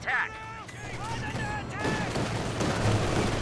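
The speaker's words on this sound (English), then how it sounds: "Just the rifle nade." Battlefield noise rumbles in a Company of Heroes 2 match, dense distant gunfire and low booms around a rifle grenade blast, with a voice talking over the steady din.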